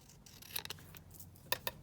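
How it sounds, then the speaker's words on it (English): Scissors snip through a print card in a few short, crisp cuts, close and quiet, with small scraping sounds between them and no talking. "So this is one of those print cards. Oops. So let's just cut that down."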